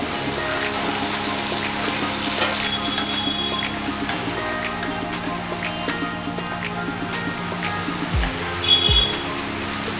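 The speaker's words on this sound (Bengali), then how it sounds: "এই পেঁয়াজ এবং রসুনটাকে একদম একটু লালচে করে বা বাদামি কালার করে একটু ভেজে নিতে হবে" Chopped onion and garlic sizzle in hot oil in a pan, a steady dense crackle and spatter running throughout, with a brief utensil clatter near the end.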